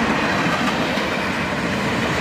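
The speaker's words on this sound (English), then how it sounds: "We have a Dash 8 leading and an SD40-3 rebuild trailing." A CSX freight train led by a Dash 8 locomotive with a trailing SD40-3 rebuild, originally an SD40-2, rolls past close by in a steady, loud roar of wheels and railcars with faint clickety-clack.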